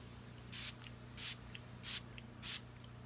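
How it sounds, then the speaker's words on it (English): A makeup setting spray bottle from a Colourpop Crushed Crystal collection fires four short, evenly spaced bursts of mist, soft and close over a low steady hum. "so let's test the sprayer"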